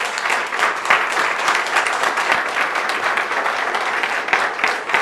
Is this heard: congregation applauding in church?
yes